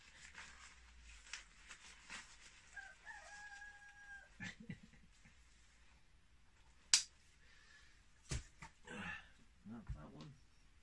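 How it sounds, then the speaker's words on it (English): A chicken clucks and squawks intermittently at moderate distance, with scattered short calls over a quiet outdoor background and some handling noise. "Oh, he's a noisy chicken,"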